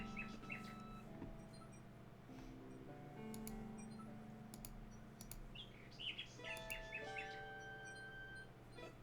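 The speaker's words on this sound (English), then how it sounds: "The nightingale sings her crystalline song in the boughs of the old tree." Nightingale singing in the King's Quest 6 video game, a run of bright chirps and twittering phrases over soft synthesized background music, gentle and fairly quiet.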